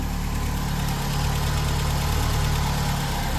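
A VW Golf MK2 GTI engine idles at about 1,200 RPM, a steady low rumble with a faint ticking knock that holds evenly and loud throughout, with no voices.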